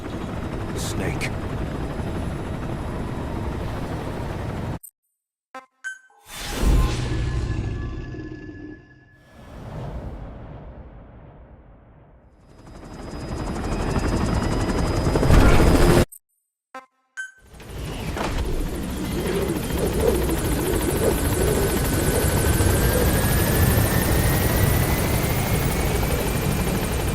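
Helicopter rotor wash and engine drone in the video game Metal Gear Solid V: The Phantom Pain, a loud, steady churning roar broken by brief silent gaps, with a voice speaking over parts of it.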